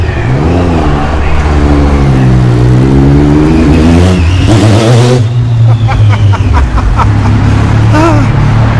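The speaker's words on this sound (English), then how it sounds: "riding that Triumph Daytona 675R on this chilly November day in filthy Cleveland" Triumph Daytona 675R sport bike ridden on a chilly November road in Cleveland, its engine loud and close, revving up through rising pitch sweeps and shifting, with a voice talking over it.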